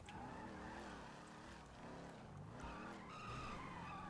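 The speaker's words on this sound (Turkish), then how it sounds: "O arabanın sesi neymiş la böyle?" A car in the video game GTA 5 revs its engine and skids, with loud wavering tire squeals and rising and falling engine pitch running throughout the clip.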